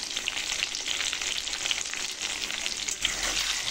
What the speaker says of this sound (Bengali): ভালোভাবে নাড়াচাড়া করে আলুটাকে লাল লাল করে ভেজে নেব।